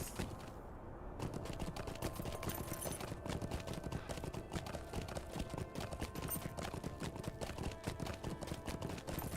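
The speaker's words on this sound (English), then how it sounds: "we're gonna ride back on our horse instead of fast traveling" Horse hooves clip-clop in a steady, even rhythm in a Lord of the Rings Online game, fairly quiet and continuous, with no talking.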